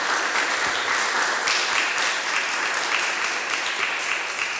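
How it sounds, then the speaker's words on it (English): An audience applauds after a talk on diaspora and decolonial storytelling, sustained clapping from a room full of listeners, steady and moderately loud throughout. "Let's give her a round of applause."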